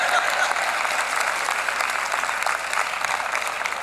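Audience applause in thanks at a formal ceremony, a dense, steady wash of many hands clapping close by for the whole stretch, with a few voices faintly mixed in.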